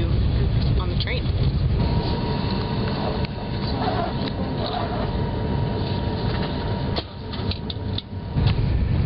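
Steady rolling rumble and rattle fill the interior of a moving train headed to Paris, a constant close hum with occasional clicks and bumps, and voices murmur faintly beneath it.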